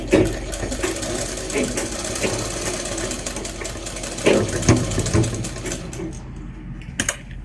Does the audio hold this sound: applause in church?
no